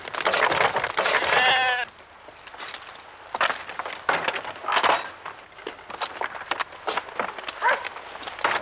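Sheep on a fell farm in November, with ewes giving several loud, wavering bleats close by, one long cry at the start and shorter calls later, over rain pattering steadily in the background.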